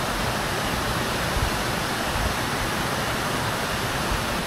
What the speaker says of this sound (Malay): satu air terjun yang cantik lah sebenarnya.